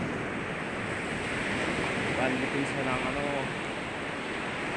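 Ocean waves wash steadily onto a seashore lined with coconut palms, a constant broad roar of surf and wind, with someone talking faintly underneath.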